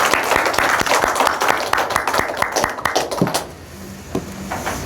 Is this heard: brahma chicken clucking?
no